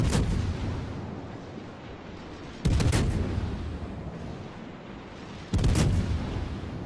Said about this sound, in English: so I pop my smoke, and commence firing